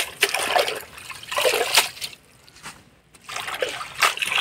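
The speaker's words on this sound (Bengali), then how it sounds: "এবার শাকটা ধুয়ে নিব।" Leafy greens being rinsed under running water, a steady trickle and splash that pauses briefly midway before resuming, close and fairly loud.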